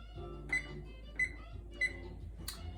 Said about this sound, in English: I'm gonna set my timer for 25 minutes.